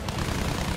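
A German fighter plane in the Battlefield 1 video game drones steadily with a dense, low engine rumble, continuous and fairly close throughout a brief stretch.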